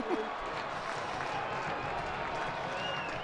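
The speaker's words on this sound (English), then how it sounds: "And now you can really hear this crowd." Cricket crowd at a Durham v Lancashire Lightning T20 Vitality Blast match, a broad, distant roar of cheering and clapping held at an even, moderate level throughout.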